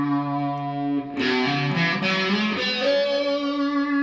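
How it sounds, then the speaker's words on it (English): An electric guitar solo from a song plays through heavy distortion: sustained bent notes, then a bright burst of strummed, fuzzy chords ringing on loud and alone. "just add some distortion, same effects as I had before, just distortion."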